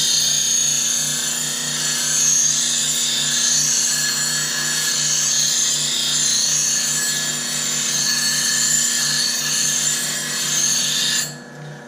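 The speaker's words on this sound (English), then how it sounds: "Now you grind the heel off" A bench grinder whines steadily, grinding the heel of a 40-40 bowl gouge with a sustained high, even tone that cuts off abruptly at the end.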